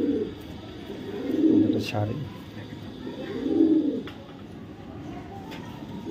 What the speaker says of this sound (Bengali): দুটোটাই ক্লাবের বিআরপিএফসি ক্লাবের কবুতর, মাশাআল্লাহ। আর একটা আফসান গ্রিজেল ফিমেল কবুতর